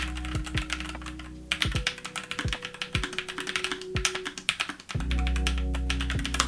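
Steady, close typing on a NuPhy Air96 low-profile keyboard with an aluminum frame and matte plastic keycaps gives rapid, light clacking keystrokes, with a few louder thocks mixed in and no voices.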